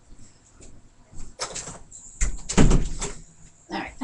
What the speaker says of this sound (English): I gotta close my door.